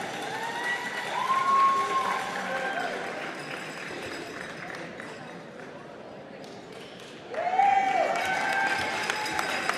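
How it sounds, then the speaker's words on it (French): An audience in a weightlifting competition hall applauds medal recipients, sustained clapping from a moderately distant crowd with a couple of bright pings and a renewed burst near the end. "Félicitations, on applaudit les récipiendaires."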